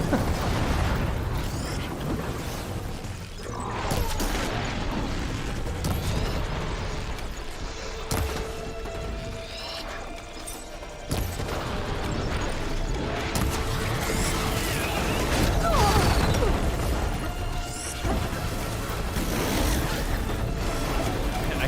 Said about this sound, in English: It's like if Michael Bay made a video game. It's just explosions.